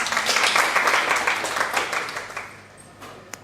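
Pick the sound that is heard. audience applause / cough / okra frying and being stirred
audience applause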